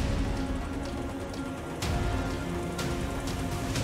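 Heavy monsoon rain in India pours down in a dense, loud, unbroken hiss, with a few sharper splashes and drips standing out against the steady downpour.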